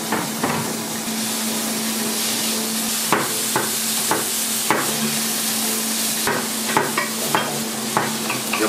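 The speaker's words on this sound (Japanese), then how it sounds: "玉ねぎトロトロにします。" Sliced onions sauté in a pan until soft, a steady hissing fry under a constant low hum, punctuated by regular sharp clicks and scrapes of a utensil stirring against the pan.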